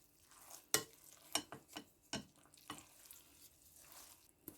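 A spoon stirs a mixture for homemade falooda, making quiet, close scraping and swishing strokes in an irregular rhythm, with a few sharper knocks against the pot and no speech.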